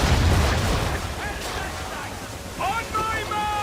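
Booming naval cannon fire from a sailing warship in Assassin's Creed 3, a heavy low rumble opening the moment with wind and sea wash behind and shouted voices over it.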